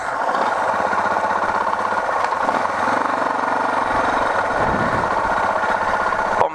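A motorcycle engine, bump-started by letting out the clutch, runs loud and close with a steady, unbroken rumble throughout, with no voices over it.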